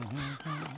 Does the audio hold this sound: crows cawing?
yes